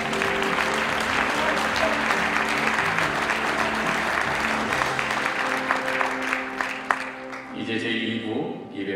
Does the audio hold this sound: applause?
yes